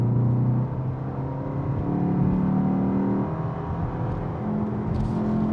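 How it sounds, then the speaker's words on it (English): A 2025 BMW X2 M35i engine drones and climbs in pitch as it accelerates in a low gear, loud and close, with the tone stepping up in stages. "We're just gonna keep her in a lower gear and just gonna accelerate"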